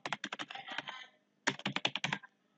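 Typing on a computer keyboard while writing HTML text: two rapid bursts of close, crisp key clicks separated by a short pause, with no talking.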